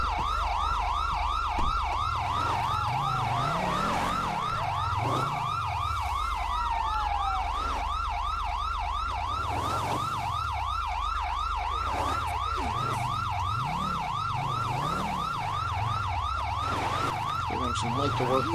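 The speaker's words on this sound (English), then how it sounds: "here comes the ambulance." An ambulance siren wails continuously with a fast, repeating yelp pattern, loud and nearby, over the low rumble of traffic.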